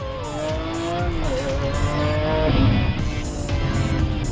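A Dubai police car with four-wheel traction driven hard, its tires squealing in long wavering tones over a loud engine roar, close and continuous.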